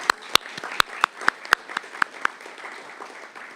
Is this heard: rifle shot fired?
no